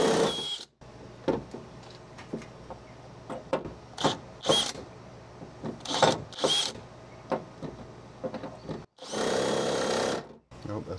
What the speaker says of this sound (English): Nope, that's just spinning inside the rivet.